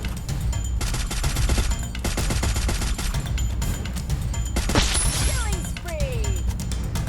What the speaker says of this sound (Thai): ลูกหมดไวเหมือนกันนะเนี่ยปืนเรารัวจัด